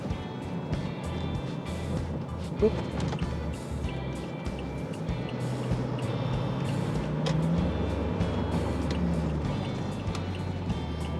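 A 2017 Toyota Innova Crysta 2.8G, heard from inside the cabin while driving and accelerating to overtake, gives a steady low engine and road rumble that stays fairly even throughout, with no talking.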